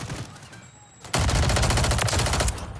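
Rapid SMG gunfire in a video game, a dense sustained burst of shots starting abruptly after a quieter stretch and running loud for about a second and a half.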